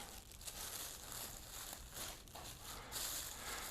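Scissors slicing through a thin plastic grocery bag, with steady crinkling and rustling of the plastic close up throughout, slightly louder near the end.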